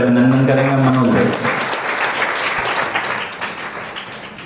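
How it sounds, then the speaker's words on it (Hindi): An audience at a Raksha Bandhan gathering at a Brahma Kumaris centre breaks into dense, sustained applause that tails off slowly, with a voice heard briefly at the start. "जोरदार तालियों से अभिनंदन करेंगे"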